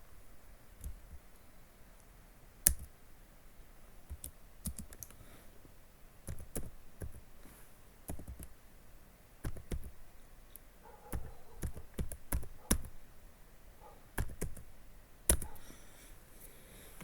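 Command being typed on a computer keyboard: scattered, fairly close key clicks in irregular bursts with short pauses, over a quiet background, no talk.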